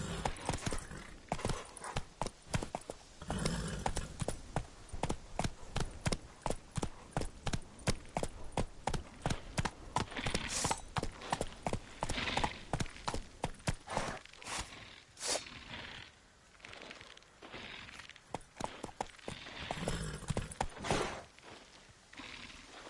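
Roach, the horse in The Witcher 3, clip-clops along in a fast, steady rhythm of sharp hoofbeats on hard ground, loud and close, slowing into sparser steps near the end.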